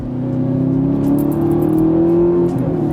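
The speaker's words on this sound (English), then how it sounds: "Listen to that downshift, by the way." A loud Audi R8 sports car engine revs and drones close by, pitch shifting as it winds through a downshift.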